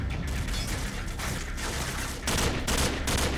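Dense, sustained gunfire from a Call of Duty 4 multiplayer match rolls on in overlapping bursts, loud and close, with a slight surge toward the end and no audible talking.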